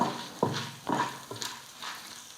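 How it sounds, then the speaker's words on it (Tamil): Chana dal, urad dal and red chillies roast in oil in a pan, a quiet sizzle broken by several scraping stirs at irregular intervals, with no talk. "இதையெல்லாம் நல்லா பொன்னுருவலாக வறுத்துக்கலாம்"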